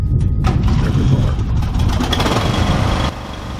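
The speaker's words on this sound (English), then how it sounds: "There's the mower." A lawn mower engine runs steadily and loudly close by, a dense low rumble with a rough mechanical clatter, easing slightly near the end.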